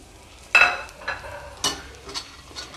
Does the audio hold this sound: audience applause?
no